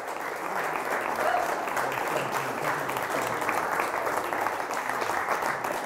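An audience at a college football signing day event applauds the coaching staff, giving a dense, steady roar of many hands clapping at even loudness for the whole stretch.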